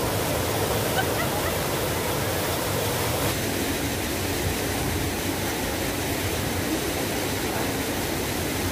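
Water runs steadily from the small pipes of the Fountain of Lovers, a little travertine trough set on stones in Rome, as a continuous close splashing rush with no talk over it.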